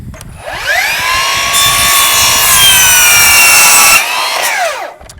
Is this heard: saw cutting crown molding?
yes